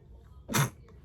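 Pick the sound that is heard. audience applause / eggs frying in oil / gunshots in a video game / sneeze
sneeze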